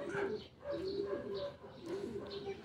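A racing pigeon coos repeatedly at its loft after a hard training race in Paete, Laguna, the soft rolling calls close and clear in a steady rhythm.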